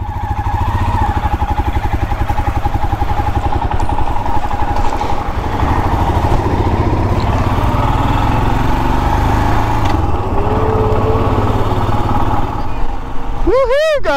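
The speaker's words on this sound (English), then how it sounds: "Here I go, my little Enfield." Royal Enfield Himalayan motorcycle engine, a loud, close, steady chugging thump as the bike rides off, with a rider's voice over it near the end.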